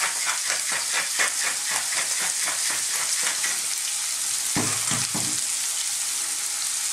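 Sliced red onions frying in a pan, a continuous close sizzle and hiss with a pulsing rhythm and a brief shift near the end, no voices.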